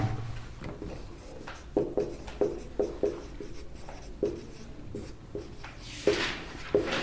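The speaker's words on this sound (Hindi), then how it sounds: "मैं यहां लिख देता हूं" Chalk or marker strokes on a classroom board during a science lesson on matter: a string of short scratchy taps and scrapes in an uneven rhythm, fairly close, with no talking.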